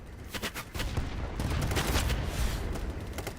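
Gunfire in the shooter game Battlebit, a dense volley of overlapping shots and impacts rumbling together at close range, dense and continuous without pauses.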